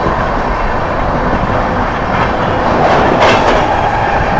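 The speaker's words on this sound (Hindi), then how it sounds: "ये बात मऊ आनंद विहार अनऑफिशियल राजधानी एक्सप्रेस।" The Mau–Anand Vihar superfast express (22539) rushes past at close range, a loud continuous roar of rolling wheels and rattling coaches with faint clickety-clack and no speech.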